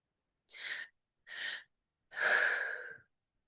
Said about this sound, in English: Breathing deeply.